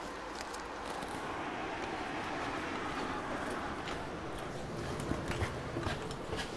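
Steady interior rumble of a moving passenger train, a continuous broadband roar with faint rattles and a few light clicks toward the end, no voices.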